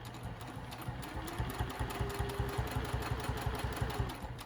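A sewing machine stitches a patchwork bag seam, with back-stitching at the start. The motor whirs steadily and close, with a rapid even needle rhythm and a brief rising tone near the start.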